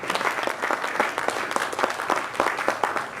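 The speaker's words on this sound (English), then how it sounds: "Another round of applause, please." An audience applauds warmly after a live performance, a steady, dense wash of clapping from many hands in a hall, with no talking over it.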